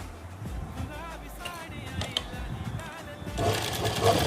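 A sewing machine stitches pieces of a salwar, with short mechanical runs of whirring and clicking and brief pauses between them. The sound is fairly close, and a little background noise rises near the end.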